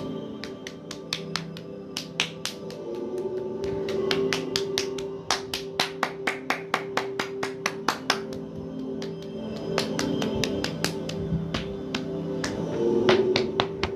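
Light champi-style tapping massage with the hands during a whole-body warm-up, a run of sharp, evenly spaced slaps in quick rhythmic bursts with short pauses, over a faint background hum and no talk.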